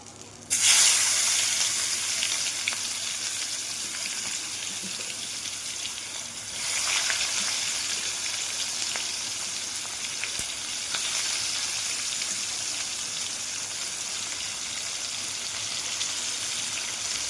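Onion hitting hot oil in a pan where fish was just fried, bursting into a loud sizzle that settles into a steady close crackle, with a few stirring surges along the way.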